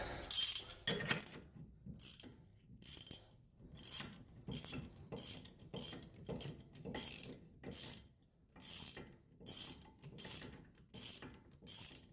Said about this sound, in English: Back to the ratchet.